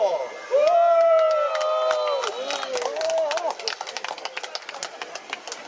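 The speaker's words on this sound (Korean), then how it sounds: "한번 여러분들의 뜻을 함성으로 답해보십시오" Crowd at an outdoor election campaign rally in Pocheon shouting back in unison: a loud, sustained roar of many voices that gives way to scattered calls and claps.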